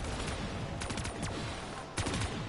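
Gunfire in Call of Duty Black Ops 3 Zombies on the Giant map: bursts of rapid shots in clusters, some rattling fast like automatic fire, fairly loud over a busy game background.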